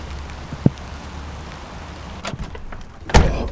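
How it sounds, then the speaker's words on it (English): Rain falls steadily outdoors in a spooky Halloween setting, a constant patter with a few sharp knocks and thuds, no talking. "it's starting to rain way more"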